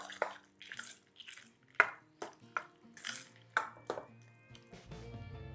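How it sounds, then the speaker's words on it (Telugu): Curd rice with avakaya mango pickle and fresh tempering being mixed by hand or spoon, soft wet squelches and stirring sounds repeating in short bursts, close and fairly quiet. "పెరుగు ఆవకాయ కలిపి ఇంకా మళ్ళీ ఫ్రెష్గా తయారు చేసుకున్న తాలింపు రెండింటిని మిక్స్ చేసేసి కలుపుకొని తింటే ఉంటుంది అసలు"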